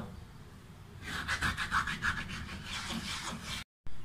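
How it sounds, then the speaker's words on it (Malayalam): A wooden cutting board is scrubbed with lemon juice, giving a run of quick, rhythmic rubbing strokes close by. The strokes follow a quieter stretch and end with a brief cutoff. "നന്നായിട്ട് എല്ലാവിടവും കുറച്ച് നേരം ഇതുപോലെ ഒന്ന് ഉരച്ചു കൊടുക്കുക"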